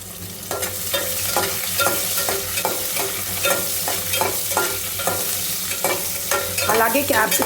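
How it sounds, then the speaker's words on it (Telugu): Chopped onions and capsicum frying in a pan while a utensil stirs them in a steady, repeated rhythm, scraping sounds over a continuous close sizzle with no talking. "ఇలాగా కట్ చేసుకున్న ఆనియన్స్, క్యాప్సికమ్ అన్నీ యాడ్ చేసుకొని ఫ్రై చేసుకోవాలి."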